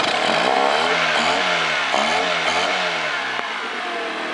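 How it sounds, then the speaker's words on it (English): A 1990 Honda 15hp four-stroke outboard motor runs close and loud, revving up and dropping back several times in quick succession, then settling to a steadier drone. "And she's a good little motor."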